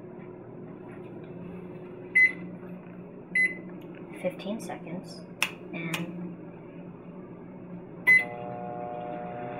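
A microwave oven hums steadily while buttons beep several times and a person speaks briefly, ending with a rising tone as it starts running.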